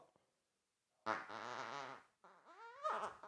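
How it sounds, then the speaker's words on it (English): A squeezable bumblebee toy lets out two fart noises, a long buzzing blast followed after a short pause by a second rising, squeaky one, loud and close with no talking over them. "that was the bumblebee fart right there"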